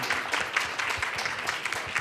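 At a library conference session, an audience gives a short round of applause, with dense, continuous clapping at a steady level.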